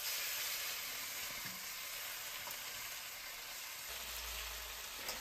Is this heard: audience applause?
no